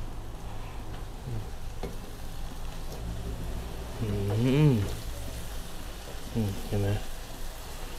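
Chinese kale leaves and pork stir-fry in a wok, a faint steady sizzle with light scraping and stirring, under someone talking throughout.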